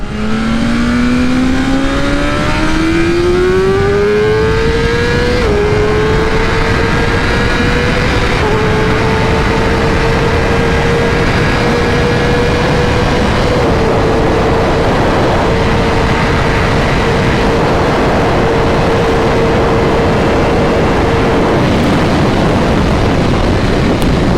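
A tuned BMW S1000RR sport motorcycle with a flashed ECU accelerates hard through the gears. Its engine pitch climbs in loud sweeps, and each upshift drops it briefly before it rises again, ending in a sustained high-speed scream.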